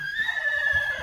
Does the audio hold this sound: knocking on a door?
no